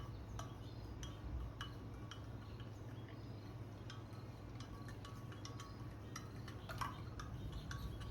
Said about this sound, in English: Then we will give it a good stir.